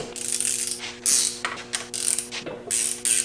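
Ratchet wrench clicking in bursts while an engine is taken apart for a piston swap, several short rapid ratcheting runs separated by brief pauses over a steady background hum, close and fairly loud.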